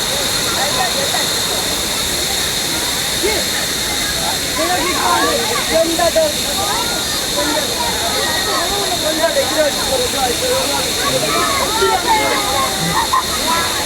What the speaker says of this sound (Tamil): ஆத்தின சத்தம் இயற்கை ஆறு இவ்வளவு அழகா இருக்கு